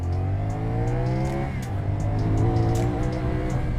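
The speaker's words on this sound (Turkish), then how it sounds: "Burada bir gaz açayım yokuş yukarı." A CF Moto 450SR motorcycle engine drones and revs under load uphill, its pitch dropping then climbing steadily, heard close up with wind noise throughout.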